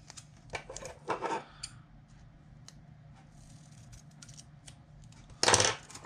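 Fiberglass tape being cut to size for insulating a ferrite toroid in an antenna transformer build, heard as close, crisp snips and rustles of tape. The snipping comes in short bursts, with one louder burst near the end.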